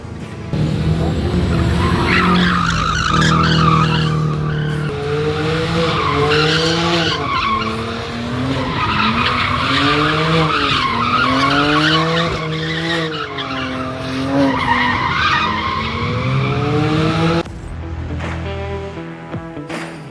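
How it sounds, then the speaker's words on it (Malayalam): Cars drifting at an auto show stunt event, loud sustained tyre squeal rising and falling in long wavering arcs over engine roar, with a brief drop near the end, no talk. "ഇനി കുറച്ച് ഡ്രിഫ്റ്റിൻ്റെ വീഡിയോസ് കാണാം."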